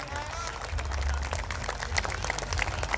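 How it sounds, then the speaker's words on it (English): Audience applause for the Raah Upanga Club at a TCA Caravans Cup 2025 cricket match, a steady, fairly loud wash of clapping lasting throughout with a few sharper claps near the end. "A big round of applause once again for Raah Upanga Club"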